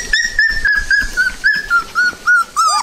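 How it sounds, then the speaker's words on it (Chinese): Puppies about twenty days old whimper and yip in a series of thin, high, whistle-like cries, close and clear, repeating every fraction of a second with short pauses between them. "他们一起学狗叫，一起汪汪汪汪汪汪。"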